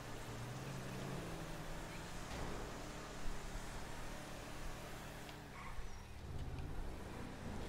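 Car engine in GTA 5 Online drones steadily, loud and low, with a short rise near the middle and faint game noise underneath.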